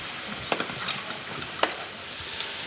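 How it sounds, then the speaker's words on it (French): Small mushrooms sizzle in a hot pan as they are turned, a steady hiss broken by a few sharp clicks and taps of a utensil against the pan, with no voices. "Hop, je retourne avec les petits champignons."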